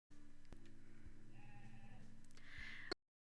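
A sheep-like monster in the video game Cassette Beasts gives a rapid, wavering bleat, a quiet trembling call lasting nearly three seconds before cutting off.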